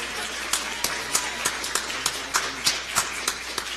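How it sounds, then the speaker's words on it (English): Scattered clapping at a school board meeting, a thin, fairly sparse patter of a few pairs of hands making distinct sharp claps at an uneven rhythm, moderately quiet in a room. "Let's give them a great big round of applause."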